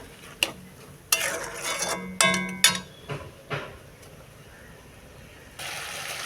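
A spoon stirs and scrapes masala paste frying in a pan for a Bengali pui shak and fish head dish, heard as scattered metallic clinks and scrapes with brief bursts of sizzling, near and moderately loud.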